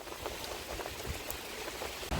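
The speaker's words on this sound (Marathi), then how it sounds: "पाऊस इकडे कंटिन्यू पडतोय." Heavy monsoon rain pours down steadily near a roaring waterfall, making a dense, loud, continuous hiss that fills the whole stretch without a break.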